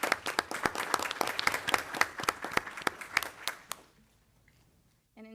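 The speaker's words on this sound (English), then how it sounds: "Let's give those outstanding seniors a round of applause." Applause from a school board meeting audience honoring outstanding high school seniors: brisk, scattered hand claps from a modest crowd for about four seconds, then fading abruptly into near silence.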